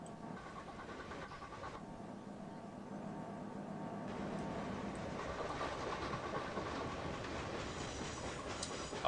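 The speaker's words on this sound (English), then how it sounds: "Steel train's almost ready to go again." A steel train in the Chris Sawyer's Locomotion game runs along the track with a steady rumble and rhythmic clatter of wagons, building slightly louder toward the end.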